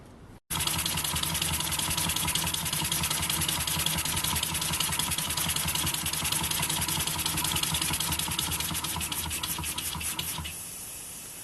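A small home-built model steam engine with separate piston and valve chambers runs continuously, giving a dense, steady, rapid chuffing hiss close up at even volume that eases slightly at the end.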